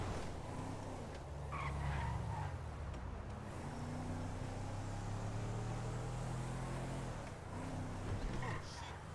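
A car driven in GTA V makes a steady engine drone with tire skids and swerving whines, and someone talks over it.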